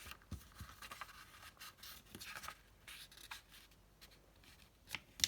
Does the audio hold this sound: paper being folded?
yes